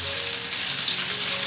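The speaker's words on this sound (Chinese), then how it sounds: "接着我们来起锅热油，然后把我们的姜片放进来炒香" Ginger slices frying in hot oil in a wok for pork tripe and yam soup, a dense, even, close sizzle holding steady throughout with no voices.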